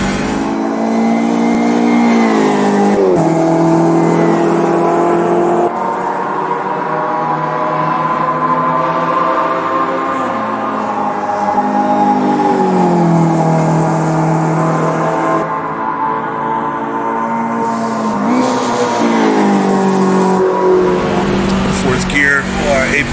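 A race car in the Automobilista 2 sim racing game runs loud and continuous, its engine rising and falling through repeated shifts and corners for the whole stretch, with a voice commenting over it.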